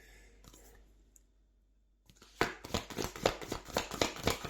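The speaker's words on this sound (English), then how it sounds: "I literally just destroy all of my cards shuffling this way" Tarot cards being shuffled by hand: a few faint taps, a quiet pause, then a rapid run of crisp riffling snaps and clicks, close and moderately loud.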